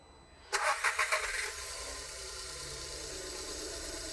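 A car engine cranks for about a second in quick, loud pulses, catches, and then settles into a steady idle that continues to the end.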